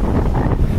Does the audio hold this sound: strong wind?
yes